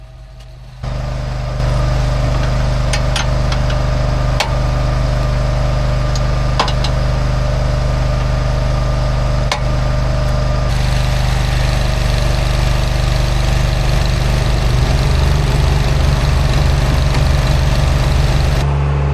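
An unfolded mobile log splitter machine's engine runs loud and close, a steady low droning idle that holds for nearly twenty seconds, with faint clanks over it and a slight shift in pitch near the end.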